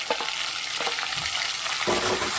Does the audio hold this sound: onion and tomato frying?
yes